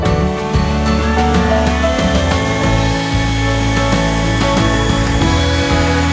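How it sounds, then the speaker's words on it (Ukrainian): A loud, constant roar from a Dnipro-M DCB-202BC Dual cordless leaf blower with a low droning hum and scattered sharp ticks of gravel being pushed and clattering along the ground. "Знайшов трошки гравію, зараз буду його роздмухувати."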